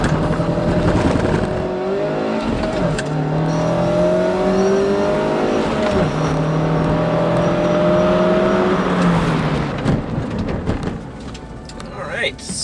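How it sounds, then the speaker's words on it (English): A 2018 Mazda MX-5 Miata with its small, low-power engine accelerates hard from a standstill toward 60 mph, the engine note climbing through several rising gear pulls with brief dips at each shift, loud and close inside the car. "0 to 60 run on the MX-5."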